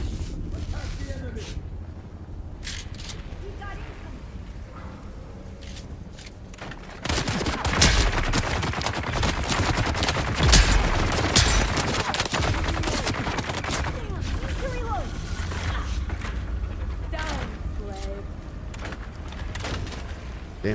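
A turret in the video game Dune: Awakening fires a sustained, loud volley of rapid shots that erupts suddenly and continues densely, with a player talking over the game sounds.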